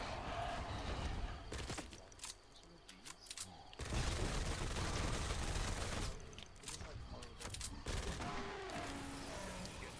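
Rapid SMG fire from the QuickShot in Fortnite Save the World rattles in long continuous bursts with short gaps between them, loud and dense, while a voice talks faintly underneath.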